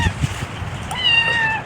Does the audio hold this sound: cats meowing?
yes